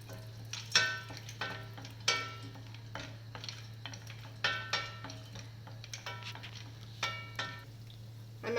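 Cashew nuts frying in hot ghee in a pan for vegetable biryani: a soft, quiet sizzle with intermittent clicks and scrapes of stirring, alongside a steady low hum.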